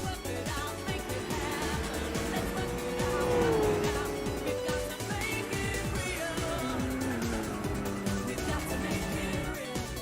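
Race car engines roar continuously in Gran Turismo 4, several cars racing in a pack, with tire squeal mixed in; the engine note rises and falls steadily and loudly throughout, with no pauses.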